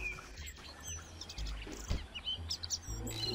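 In the video game Gretel & Hansel, a bird gives several short, bright chirps over quiet ambient background, with faint low thuds and rustles in between.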